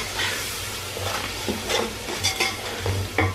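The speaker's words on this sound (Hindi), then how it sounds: "साथ ही मसाले भी डाल देंगे सारे। दो मिनट भून के आलू डालेंगे।" Spices and potatoes fry in a pot for chana pulao as a spoon stirs them, giving a steady sizzle with scattered scrapes and clinks close by.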